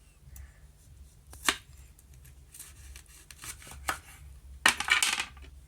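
A knife cuts an orange in a few separate crisp strokes and scrapes, close and fairly quiet over a low hum, with the sharpest cuts toward the end.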